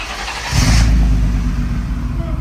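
A car engine with its exhaust silencer removed fires up after a quiet moment, jumping into a loud, deep idle rumble that holds steady and close.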